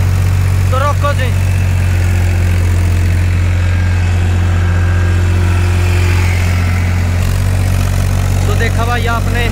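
A Powertrac Euro 50 tractor engine idles with a rotavator attached, a loud, steady low diesel rumble throughout with a slight shift in tone near the end, while someone speaks over it.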